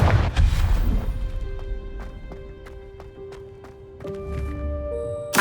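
Confringo blasting spell detonating in Hogwarts Legacy, a heavy boom at the start fading into scattered impacts and ringing chimes, followed by a second thud near the end.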